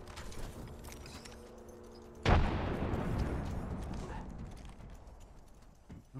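Frag grenade in Apex Legends detonating with a single sharp, loud blast midway, followed by a long decaying rumble and debris hiss amid quieter game ambience.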